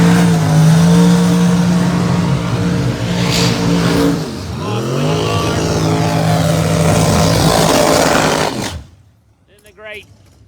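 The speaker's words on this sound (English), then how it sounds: "Mustang, I believe, just came roaring by." A Ford Mustang Pro Mod drag racing car roars past during testing at Bradenton Motorsports Park, a loud sustained engine howl with a pitch drop as it passes, then cutting off to quiet.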